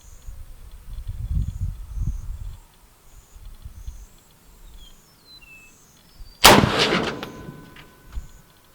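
A single sharp rifle shot firing Federal Match 185 grain ammunition on a long-range shooting range, loud and sudden after several seconds of quiet outdoor ambience and faint insect chirps.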